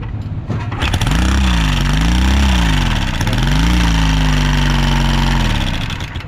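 A Honda XR150 motorcycle engine with a damaged exhaust runs loud and close, holding a steady idle and rising in a few revs before easing back, with no talk over it.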